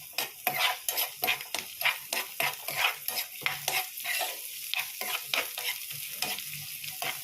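Onions sautéing in a pan for egg curry gravy, with a steady sizzle and repeated scraping and stirring strokes of a spoon against the metal, close and fairly loud, with no voices.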